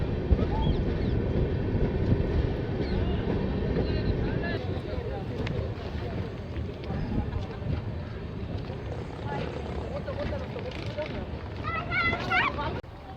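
The 13162 Tebhaga Express, running with new LHB coaches, rolls into Pakur station, making a continuous low rumble with rattling and wind noise throughout while a voice talks over it.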